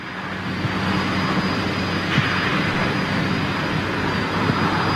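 A Boeing 747 freighter jet on the runway gives off a loud, steady roar of jet engines with a thin high whine, heard from nearby without pause.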